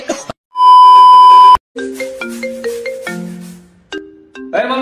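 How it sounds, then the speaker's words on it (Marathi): A phone ringtone plays, a sustained beep followed by a quick melodic run of electronic notes, loud and close, with voices starting up at the end. "अरे मम्मी, फोन बघ बरं कोणाचा आहे."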